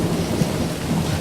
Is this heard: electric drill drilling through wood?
no